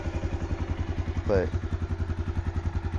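A stock-exhaust Suzuki KingQuad 400 FSI ATV engine, a 2019 model, idles with a steady, loud, lumpy gurgling pulse close by, while a voice briefly cuts in over it.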